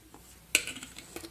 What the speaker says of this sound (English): We're going to again give our chocolate a nice stir